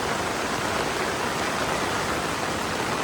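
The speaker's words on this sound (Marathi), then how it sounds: "लयच पाऊस बापरे" Heavy monsoon rain pours down in a dense, unbroken roar that stays loud and even throughout.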